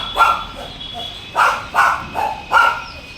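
At a dog breeding farm, a dog lets out five sharp barks, one early and then four in quick succession, loud and close, with a faint whine between them.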